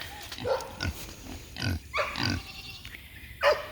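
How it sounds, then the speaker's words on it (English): Several feeder pigs on a farm grunt in short, irregular bursts, some snorts sharper and louder than others, close by with no talking. "This year we just have regular, just feeder pigs"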